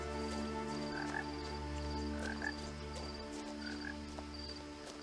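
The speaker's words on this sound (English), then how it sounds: "And the sounds of the frogs." Frogs croak steadily in the atmospheric soundscape of the video game What Remains of Edith Finch, with repeated chirping calls over a constant low ambient bed, no voices.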